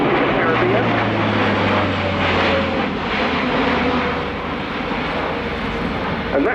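Roar of an Airbus A400M Atlas military transport's turboprop engines during an airshow demonstration, loud and sustained with a low droning tone early on, while commentary carries on over it.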